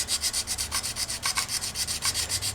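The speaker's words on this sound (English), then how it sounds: "do the last bits of hand sanding and fine tuning on this stuff right here" Knife scales being hand sanded before heat treating the blade, a steady back-and-forth rasp repeating in quick even strokes, close and moderately loud, with no talking.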